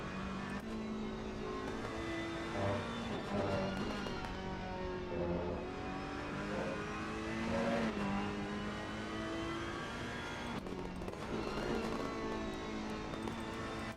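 Ferrari race car engine in Assetto Corsa Competizione, revving through gear shifts with rising and falling pitch, a continuous loud in-game engine drone with brief breaks between gears.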